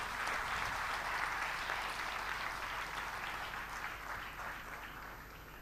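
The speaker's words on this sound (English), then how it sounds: "So big, loud applause for you." A graduation ceremony audience applauds in a large hall, the dense clapping sustained and even for several seconds and slowly easing in loudness, with no voices over it.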